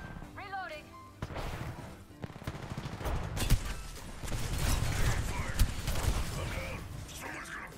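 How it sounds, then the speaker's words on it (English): Rapid bursts of video game gunfire crackle and rattle amid mechanical clanks and whirs, rising in intensity toward the middle, with a voice speaking over the action. "They're shooting at me."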